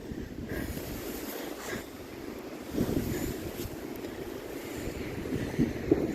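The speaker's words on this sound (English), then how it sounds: "The downside of all this wind is you may have some trouble hearing me." Strong, gusty wind roars across a microphone in an open cemetery, a constant rushing buffet that swells in stronger gusts.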